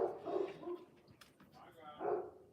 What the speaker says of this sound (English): My dog's going nuts again.